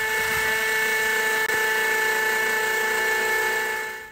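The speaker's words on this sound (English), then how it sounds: "we're going to drill the dynabolts, pre-drill the timber, mark the wall, drill the dynabolts" A power drill boring holes for dynabolts into a brick wall, a loud, continuous high-pitched whine with one brief dip midway, then trailing off at the end.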